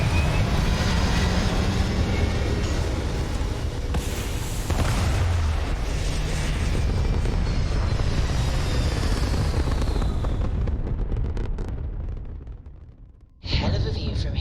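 Spaceship liftoff in a video game: a loud, sustained rumbling roar that fills the stretch for about ten seconds, then fades away, followed by a brief renewed burst.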